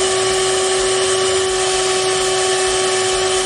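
A power wire wheel scrubs an Eaton M90 supercharger snout freshly stripped of paint, a loud, steady whirring grind with a constant high whine, running throughout with no talk.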